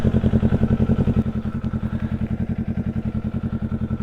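A motorcycle engine idles close by, probably a 2024 Kawasaki Ninja 500 or Yamaha R7, in a steady rapid thumping pulse with light mechanical clatter throughout, no voices.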